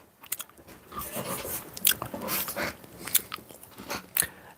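Close, wet gum chewing with irregular crunchy bites and smacking, loud and intimate, with no talking.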